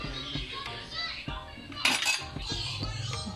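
Tomato, onion and ginger tipped into a cooking pot for boiling, with steady clinks and clatters of a utensil against metal and a sharper rattle midway, close and moderately loud.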